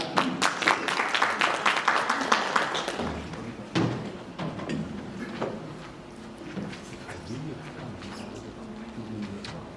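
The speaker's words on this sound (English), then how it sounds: "Big round of applause" An audience at a seminar on Chinese investment in Zimbabwe claps in a brief burst of applause that fades within a few seconds, followed by scattered taps and thumps while people talk.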